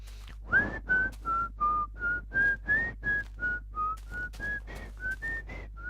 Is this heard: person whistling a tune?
yes